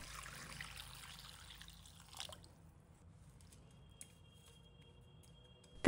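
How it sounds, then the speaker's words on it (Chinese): Clean water poured into a clay pot holding white hyacinth beans for a pork rib and kudzu root soup, a soft trickling splash at the start that fades into quiet dripping. "再倒上适量的清水"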